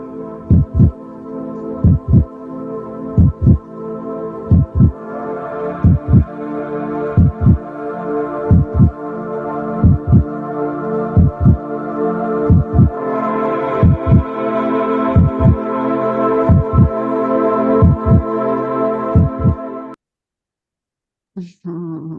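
A recorded heartbeat is played aloud, steady paired thumps repeating about once a second over a constant low hum for roughly twenty seconds before cutting off abruptly.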